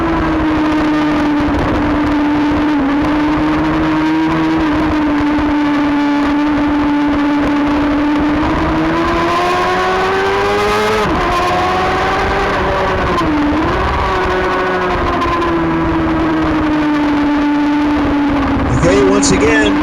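Race cars of the Formula Femme class accelerating around a track, a loud sustained engine drone that rises and falls in pitch through gear changes, with commentary running over it throughout.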